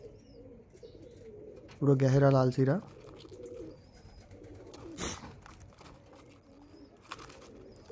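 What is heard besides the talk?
Mangalagiri pigeons cooing in a loft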